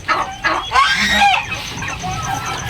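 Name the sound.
native turkey clucking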